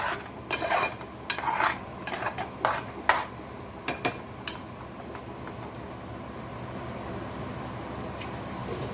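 A spoon stirs sugar, coconut, cardamom and ghee in a pan. It gives a run of scraping clacks against the metal in the first half, then settles into a quieter steady hiss. Nobody speaks.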